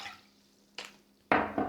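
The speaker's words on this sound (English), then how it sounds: "Okay, I'm going to mix in 4 cups of water." Water being poured into a bowl of rice flour batter for bánh cuốn, heard as a few short splashing bursts with quiet gaps between them, close and fairly soft.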